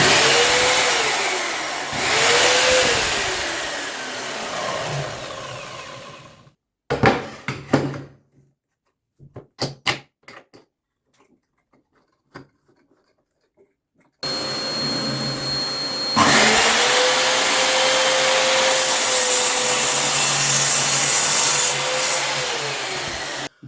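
A Parkside PZKS 2000 B2 sliding compound mitre saw spins up with a loud whine and bites through wood twice, the cuts separated by a quiet pause with clicks and clatter of handling.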